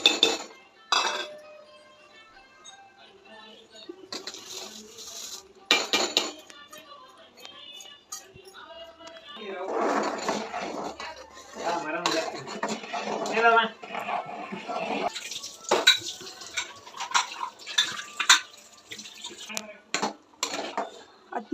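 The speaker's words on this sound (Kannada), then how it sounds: "ಹುರ್ಕೊಂಡಿರೋ ಸಬ್ಬಕ್ಕಿ ಅವು ಹಾಕೋಣ" Fried sago pearls go into milk in a cooking pot for sago payasam. A spoon clinks and scrapes against the pot in scattered bursts while a person talks through most of it.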